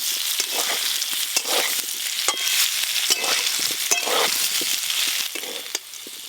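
Elephant foot yam pieces frying in a pan, a steady close sizzle with bursts of crackle and occasional stirring scrapes.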